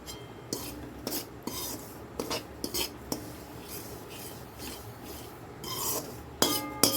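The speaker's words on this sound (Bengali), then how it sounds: "ঘি দেওয়ার পরে সুজিটা দিয়ে দিলাম এবার সুজিটা একটু বেশ সুন্দর করে ভাজা হবে" Semolina roasting in ghee in a wok is stirred with a spatula, giving irregular scraping and clinking strokes against the metal with a gritty rasp between them. The sound is close but fairly quiet, with no voices.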